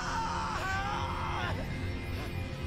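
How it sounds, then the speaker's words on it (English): A character in The Amazing Spider-Man video game lets out a strained, wavering cry of pain, rising and breaking over a dense background of game noise and rumble. "Let's just say super painful scream."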